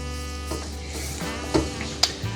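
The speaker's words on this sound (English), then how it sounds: "First thing we're going to put in is the onions" Onions and celery start heating in melted butter in a soup pot for corn and crab bisque, with a faint low sizzle and a couple of small clinks over a steady hum.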